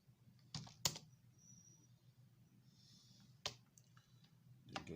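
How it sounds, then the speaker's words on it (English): Password typed on an HP 15 laptop keyboard: a few sparse, close key clicks separated by pauses in a quiet room. "I'll type in the password the user has given me."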